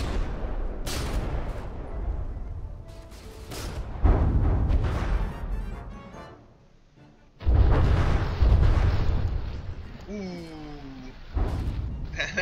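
A warship in the naval combat game From the Depths takes repeated shell hits to its bow, producing heavy booming impacts and rumbling explosions with low crashes, interrupted by a brief lull, while a voice talks over the action.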